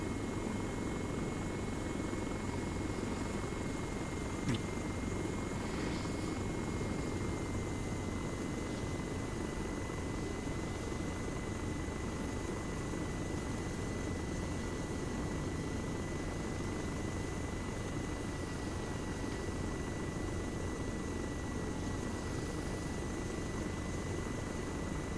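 Helicopter in the ARMA 3 military video game, a faint steady rotor and engine drone holding constant throughout with a thin high whine.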